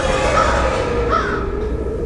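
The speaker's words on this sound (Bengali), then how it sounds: "গোটা চত্বরটা কাঁপিয়ে কিছু কাক ডেকে উঠল বিকট শব্দে" Several crows cawing harshly in a loud burst as an audio-story sound effect, with a couple of rising calls standing out over a dense, continuous background.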